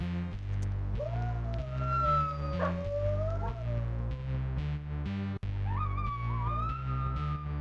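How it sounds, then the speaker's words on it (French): A lone wolf howls in long, rising and falling wails, over a sustained musical backing, with two separate howls. "un puissant loup occupé à pleurer sur ce qu'aurait pu être un cercueil"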